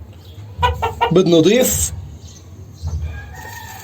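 Hens in a chicken coop cluck in short bursts, loud and close, with a voice speaking briefly between the calls.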